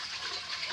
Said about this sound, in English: I put the water in.